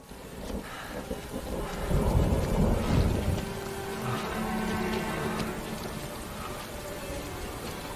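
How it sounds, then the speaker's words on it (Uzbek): Rain falls steadily while a deep roll of thunder builds and rumbles through the middle before easing back into a constant soft downpour. "Bu oddiy yomg'ir."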